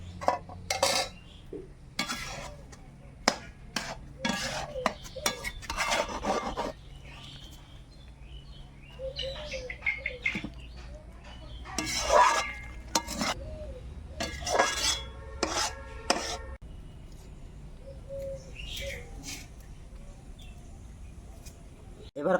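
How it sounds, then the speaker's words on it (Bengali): A spoon scrapes and clinks in a pot while sautéed vegetables are mixed with boiled dal and rice for khichuri, in irregular bursts of close metallic rubbing, with occasional voices and faint bird chirps around. "কষানো সবজি সেদ্ধ সেদ্ধ করা ডাল আর ভাতের সঙ্গে মিশিয়ে দেবো"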